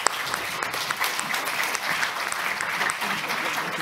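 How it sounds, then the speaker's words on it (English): Audience applause for the panelists at the close of a longevity science conference in Singapore, a steady dense patter of many hands clapping throughout, fairly loud and continuous with no voices rising above it. "join me in a round of applause for them"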